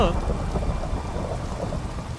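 In Minecraft, a lightning strike during blood rain lands with a sharp, loud crack at the start, then gives way to a rolling thunder rumble and steady rain hiss that fades slowly.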